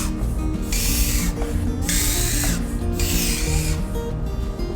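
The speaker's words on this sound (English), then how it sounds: "We're gonna spray you." Aftershave is sprayed during a child's haircut, producing three separate hissing spray bursts close to the microphone, each lasting about a second, over a continuous low background hum.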